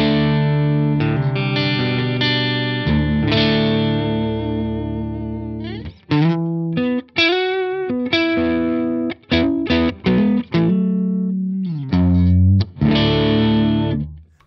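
Jackson JS32Q Dinky arch top electric guitar on the neck pickup with the tone fully open and volume up, through an Engl Fireball 25 amp and 2x12 cabinet on the clean channel. Loud sustained chords ring out, then short choppy strums and bent notes follow, with no talk.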